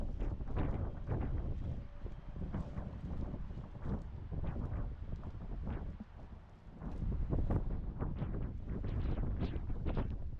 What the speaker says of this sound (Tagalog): Pasensya niyo po, mahangin lang po talaga.